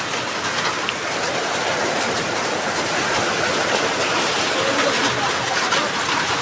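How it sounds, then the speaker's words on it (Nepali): A downpour of heavy rain roars in a continuous, even wash of noise, close and loud from start to finish. "पानी आउँदैछ आज साथीहरू हेर्नु न कस्तो डरै लाग्ने गरेको"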